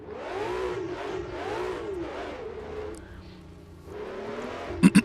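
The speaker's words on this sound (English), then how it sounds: "Probably the worst launch ever. Oh, but it has power. We are moving." James Bond's dream car, a newer sports car, launches and accelerates with a loud rising engine note that climbs and shifts through gears for several seconds. A few sharp knocks follow at the end.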